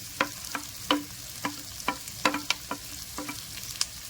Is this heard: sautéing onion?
yes